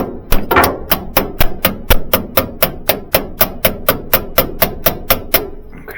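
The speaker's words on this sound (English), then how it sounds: "Take our hammer here, we gotta get good connections." A hammer taps steadily on a Model T, with about twenty sharp, evenly spaced metallic strikes close by and no talk.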